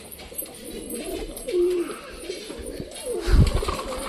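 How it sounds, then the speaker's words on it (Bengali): Pigeons kept as pets coo softly nearby, a brief low call rising then fading, followed by a short burst of wing flutter or shuffling near the end. "দেখতে পাচ্ছি এইদিকে চলে গেছে প্রচুর পায়রা"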